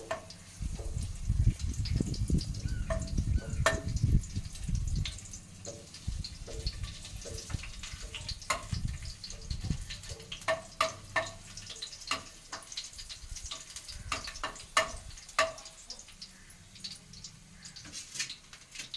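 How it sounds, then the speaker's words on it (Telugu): Garlic with curry leaves frying in hot oil in a pan, giving a steady crackling sizzle with scattered sharp pops throughout, loudest in the first few seconds and then settling into a lighter, spitting hiss. "ముందుగా అయితే ఎల్లుల్లిపాయలు వేస్తున్నాను."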